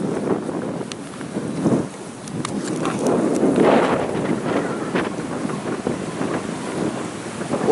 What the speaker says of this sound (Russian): Сегодня погода ветреная, даже волны есть.